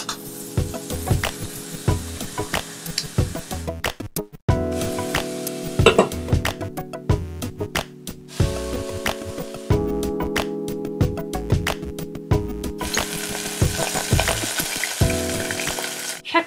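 A thin cheeseburger patty pressed into a circular form cooks inside a rice cooker, giving a steady close sizzle and frying crackle with occasional stirring or scraping knocks, and no talking.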